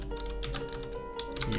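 Steady typing on a computer keyboard, a quick run of close, crisp keystrokes with no talk over a faint background hum.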